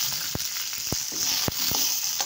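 Half a kilo of coriander seeds and 50 grams of black peppercorns roast in a little oil for homemade black masala, giving a constant bright sizzle punctuated by sharp spoon taps and scrapes at irregular intervals.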